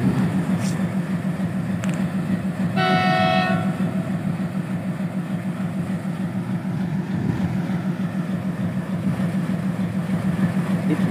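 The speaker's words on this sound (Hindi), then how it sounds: "वो डब्बा वाला ट्रेन आ रहा है गाइस" A long train with many wagons rolls past close by, its wheels thumping in a steady rhythmic clatter, with a brief horn blast partway through and people talking over the rumble.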